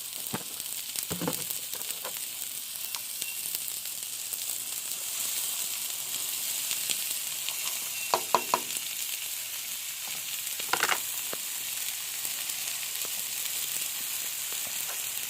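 Peas, carrots and onions fry in a pan for Japanese fried rice, giving a steady close sizzle throughout with a few brief clattering stirs scattered across it.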